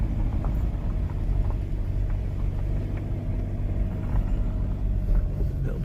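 A non-4x4 car creeps slowly along a muddy mixed-woodland track, a steady low engine rumble and drone running throughout, close and fairly loud, with no voices.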